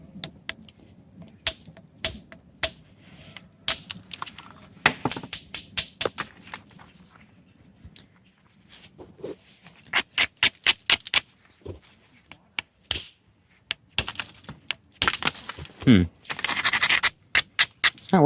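A steel-pipe billet strikes dacite stone while flintknapping, producing a close series of sharp, bright clicking taps in irregular bursts, with some scraping and rustling as the stone is trimmed.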